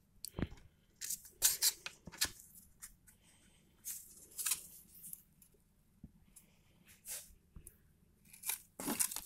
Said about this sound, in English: So we'll take that card out and have a look.